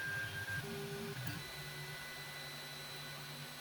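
An Ender 3 Pro 3D printer running a print, with a steady low motor hum and faint stepper whine, continuous and fairly quiet throughout.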